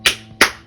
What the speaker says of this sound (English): you can clap your hands empty